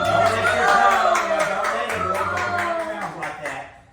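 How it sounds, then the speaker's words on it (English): An audience at a 60th birthday celebration claps in a quick, steady patter for a few seconds, mixed with a voice. "let's give a clap for that"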